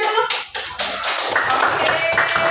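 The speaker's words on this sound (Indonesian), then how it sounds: "Coba kasih tepuk tangannya dulu." Young children in a first-grade classroom clap their hands together in a lively, somewhat ragged burst close by, with some voices mixed in.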